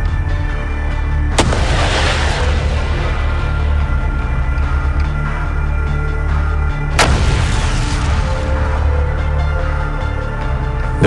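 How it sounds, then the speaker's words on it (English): Shershen anti-tank guided missile fired from its transport launching container, two sharp loud launch blasts several seconds apart, each followed by a roaring rush over a constant low rumble. "Launching of the missile is made from the transport launching container."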